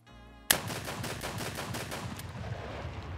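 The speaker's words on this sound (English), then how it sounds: "For this test, I am shooting the shotgun as fast as I can" An MP-155 shotgun in the video game Escape from Tarkov fired as fast as possible, a loud initial blast followed by a dense, rapid rolling barrage of shots that continues to the end.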